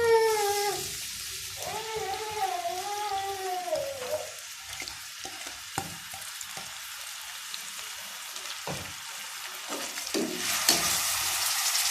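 Onions dropped into half a cup of hot oil in a pan for a matar chicken dish, with a burst of sizzling and stirring, then steady frying crackle and scraping close by; no voices.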